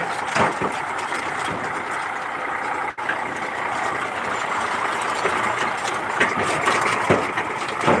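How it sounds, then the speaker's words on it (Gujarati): A farm tractor's engine runs steadily as it drives past, a continuous loud mechanical drone with rattling and brief surges, close by and alone without talk. "ટ્રેક્ટરનો ડ્રાઈવર ઉડાડે જાય છે"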